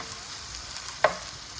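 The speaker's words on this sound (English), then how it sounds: "So now we're just sauteing the onion and the green pepper" Onion and green pepper sauteing in oil for a chicken stew, a quiet steady sizzle with one brief clink of a utensil partway through.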